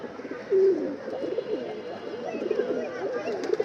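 Released pigeons coo softly nearby in low, rolling calls repeated over a faint background hiss, with no other prominent sounds.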